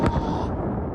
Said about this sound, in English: Explosions and columns of smoke and fire across Iran